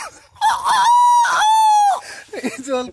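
A voice imitates a rooster crowing, a long, loud, drawn-out call held steady near the mic, followed by brief clucking-like sounds.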